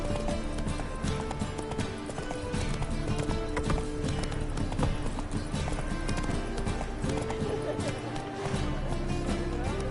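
Roach the horse gallops in The Witcher 3, a steady rhythmic clip-clop of hooves running throughout, close and loud amid game music and ambience, with a voice urging the horse on.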